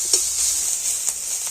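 Spices, ginger and finely chopped onion frying in oil in a pan, a close, steady sizzle with a few brief stirring scrapes, no talking.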